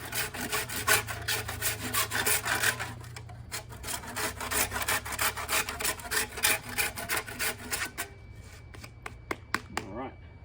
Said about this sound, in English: Pretty good saw, this.